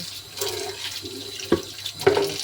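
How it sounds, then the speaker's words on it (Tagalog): Water runs into a bucket being filled for chili plants kept indoors: a soft, uneven splashing and trickling that stays fairly quiet, with a couple of sharper gurgles near the middle and the end. "Lalagyan ko ng tubig ito para hindi iisipin ng mga sili."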